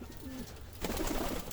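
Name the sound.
pet birds, likely racing pigeons, cooing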